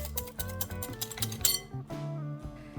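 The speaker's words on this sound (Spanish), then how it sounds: "En un bol grande, vierte 3 huevos y bátelos" A whisk beats three eggs in a large bowl, giving quick, irregular metallic clinks and taps that are close and fairly soft, with steady tonal sounds running underneath.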